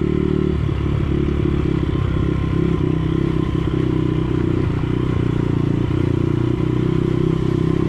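A motorcycle rides along a road through an indigenous community area in Ecuador, its engine droning loud and close with steady low rumble, plus clatter and rattling from the ride throughout.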